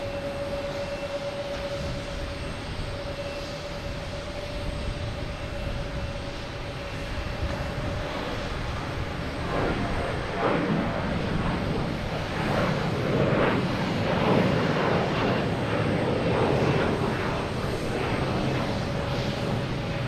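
A Delta Embraer E175 regional jet takes off at Boston Logan, its engine roar building gradually from a distant hum with a faint tonal whine to a louder rumble toward the end.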